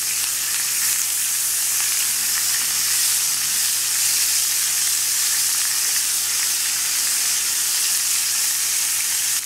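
Steady, crackling sizzle of a deep sea fish steak frying with lime in a hot pan, continuous and close, with no talking.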